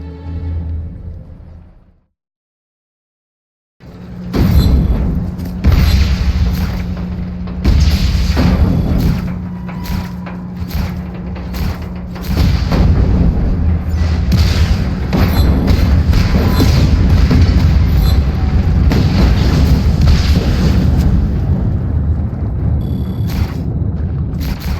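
An outpost being destroyed in the video game Just Cause 3: after a brief silence, a sustained loud barrage of explosions and heavy booms rumbles on, with repeated sharp blasts scattered through a dense, roaring wall of sound.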